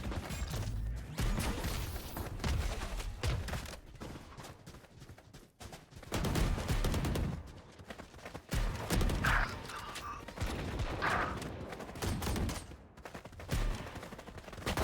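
Gunfire and explosive launches from a competitive video game match, played at a comic con tournament, come as dense overlapping bursts and booms throughout, with an announcer-style voice calling out over the loud, continuous action.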